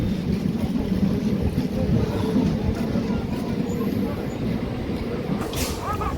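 An MMTS local train pulls out of Borabanda railway station, a steady low rumble and rattle heard from on board, with faint passenger chatter in the background.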